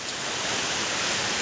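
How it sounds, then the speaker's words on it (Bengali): Heavy rain pours steadily along a road, a dense, even wash of noise without breaks or voices. "গাইস, প্রচণ্ড বৃষ্টি হচ্ছে"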